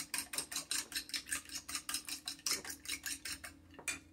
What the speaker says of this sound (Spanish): Yo voy a batir un huevo, en caso de que me haga falta